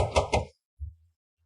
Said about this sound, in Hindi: क्या खटखटा रहे हो? ताला लगा है, नहीं दिखता।